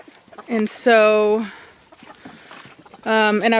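Brahma and Jersey Giant chickens in a coop let out loud, drawn-out clucks and squawks, two bursts close by with quieter rustling between.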